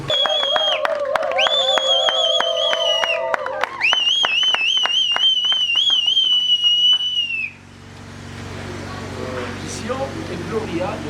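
At a civil wedding held at the bride's family residence, guests clap and cheer for the couple. Loud, sustained whistle tones come first, then a wash of crowd applause and voices takes over.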